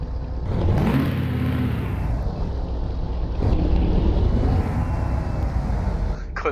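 DAF truck engine in Euro Truck Simulator 2, a loud steady rumbling drone that swells and dips slightly as it drives, with no voices.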